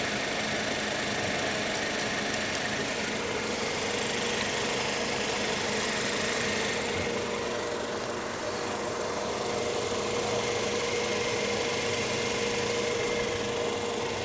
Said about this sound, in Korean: 네, 가솔린 차량답게 매우 조용한 차량입니다.